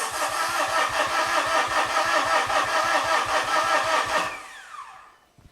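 A Mitsubishi Fuso FG truck's 4P10 diesel engine cranking on the starter, a fast even chugging rhythm held for about four seconds before it cuts off and winds down into quiet, close and loud.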